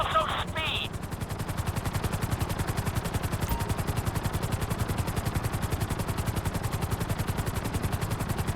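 Helicopter in GTA 5 flying steadily, its rotor beating in a fast, even chop that continues throughout at close range, with a short beep near the start.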